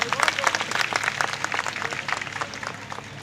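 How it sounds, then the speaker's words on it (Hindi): Steady applause from a crowd at a political protest rally, dense clapping filling the space for a few seconds with a faint voice mixed in. "एक बार जोरदार उनके लिए तालियां हो जाए"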